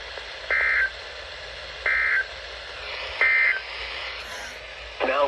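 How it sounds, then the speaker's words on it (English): Three loud, steady two-tone alert bursts of roughly a third of a second each, evenly spaced about 1.3 seconds apart, from a NOAA Weather Radio warning device test broadcast over a faint hissy background, ending with a brief rising chirp. "This has been a test of the NOAA Weather Radio warning device."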